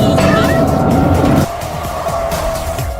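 Race car cornering around a circular test course at steady speed: a loud engine drone with tyre noise that drops away sharply partway through, then a lower, uneven rumble continues.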